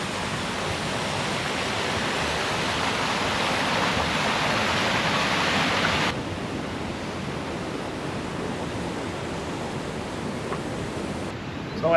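Steady broadband rush of the Skradinski Buk waterfalls in Krka National Park, Croatia, loud and continuous for the whole stretch, easing slightly in level partway through with no voices over it.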